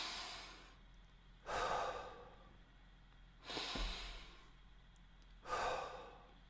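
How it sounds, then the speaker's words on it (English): Three slow, deep breaths are drawn one after another, each a soft breathy rush spaced about two seconds apart, close and quiet against a faint background hum, with no speech. "Take a few deep breaths."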